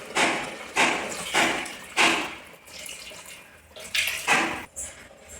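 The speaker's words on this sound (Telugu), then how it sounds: "నేను వాటర్ని వేట్ చేసి పెట్టుకున్నానండి," Warm water poured into a pan of gongura mutton curry, heard as a few splashing pours in separate bursts with short pauses, close and fairly soft.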